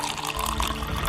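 Water is poured into a glass of liquor, making a brief, close trickling splash as the glass fills.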